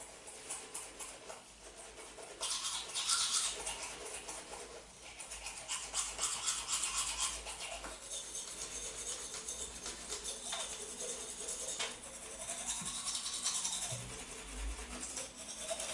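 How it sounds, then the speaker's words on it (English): Teeth brushed vigorously with a toothbrush and toothpaste, a close, quiet, continuous bristly scrubbing with quick back-and-forth strokes, heard alone. "Then brush your teeth vigorously and make sure that you rinse well."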